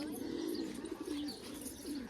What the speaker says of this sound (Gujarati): બાકી તો આવી રહ્યા આપણા કબૂતર